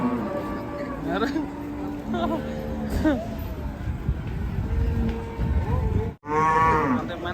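Agitated cattle let out several long, drawn-out moos, loud and near, over a noisy background of crowd voices, ending in a final rising bellow after a short gap.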